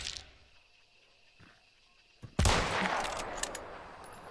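Gunfire in the Hunt: Showdown video game: a loud, close shot bursts in after a quiet stretch, followed by a sustained noisy rumble and a few sharper cracks.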